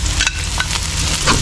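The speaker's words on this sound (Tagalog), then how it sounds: "Gisa natin ito na maayos. Tapos sunod natin tong sibuyas." Onions sautéing in hot oil for pork menudo, a loud steady sizzle with a few stirring scrapes of the utensil in the pan, close up.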